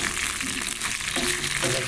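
Cut okra frying in oil in a pan while being lightly stirred, a steady, close hiss and crackle.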